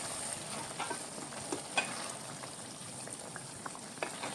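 A turmeric vegetable curry simmers slowly over a low gas flame, giving a quiet, steady bubbling sizzle with occasional small pops and light taps.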